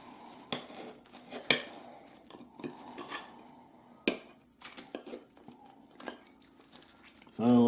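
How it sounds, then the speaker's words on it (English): Fresh cheese is cleared off and a homemade bacon-bit sandwich is cut open: faint scraping, crinkling and clinks of a knife against a plate, broken by a few sharp taps, with soft talk underneath. "going to clear off the fresh cheese and cut open my sandwich I made a few minutes ago"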